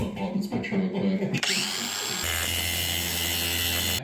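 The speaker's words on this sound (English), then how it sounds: "Sometimes you can't find your turbo nuts and bolts, so you just cut them." A power tool cuts through turbo nuts and bolts during an engine rebuild on a 2008 Subaru Forester XT, a loud grinding whine starting midway and running steadily after someone talks briefly at the start.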